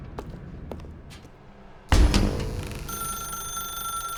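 A telephone rings in The Stanley Parable, a loud bell-like trill that begins after a few soft taps and thuds and carries on over the rest of the clip.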